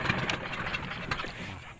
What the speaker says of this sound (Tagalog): Pinandar na ni Kuya so makina.